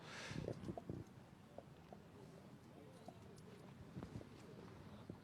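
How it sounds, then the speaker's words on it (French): Horse hooves clip-clop as the animal passes at a racecourse on race day, a quick uneven patter of strikes in open air with light background noise, no talk over it. "On va laisser passer le cheval."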